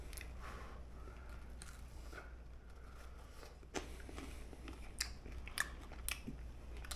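Crunchy mini pepperoni pizza crust gets bitten and chewed close up, with quiet, scattered crisp cracks and crunches popping out over a faint low hum.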